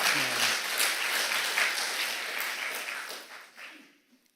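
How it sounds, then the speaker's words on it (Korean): A church congregation applauding during a Sunday worship service, a full, dense burst of clapping from many hands that holds steady, then thins and fades out toward the end. "우리 감사의 박수, 찬양의 박수"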